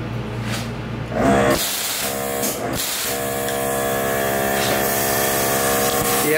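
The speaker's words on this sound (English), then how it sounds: "Yeah, so you can hear that internal air compressor." The internal air compressor of a Hypertherm Powermax 30 plasma cutter starts up after a clunk and settles into a loud, steady hum with a broad airy hiss, running continuously close by.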